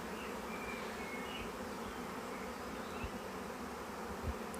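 Dense, steady buzzing of a honey bee swarm, soft but continuous, with occasional low thumps nearby.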